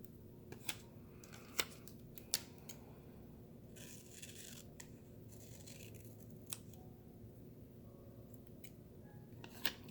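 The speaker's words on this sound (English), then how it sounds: "Actually, I should probably cut this side down a little bit too." Paper being trimmed with scissors while a reading journal is assembled, quiet close snips and scrapes scattered across a faint background, with a few sharper clicks.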